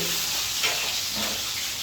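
Rohu fish fries in hot oil, a close, continuous sizzling hiss with a slight swell partway through and no talking.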